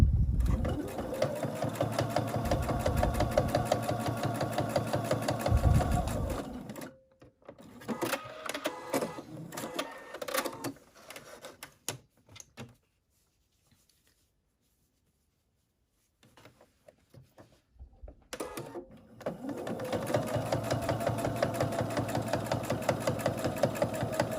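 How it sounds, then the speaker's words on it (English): A sewing machine stitches darts in fabric in steady bursts of rapid stitching, pauses with quiet gaps and lighter handling noises, then resumes its fast, even whirr. "here we are at the sewing machine and now we are going to stitch these darts"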